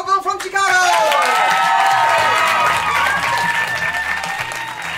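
Dense crowd applause with cheering at an improv comedy show at the Paris improv festival, swelling quickly to full strength and holding loud and close over a few seconds, with voices and music-like tones mixed underneath.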